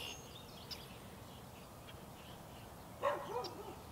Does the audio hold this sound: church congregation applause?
no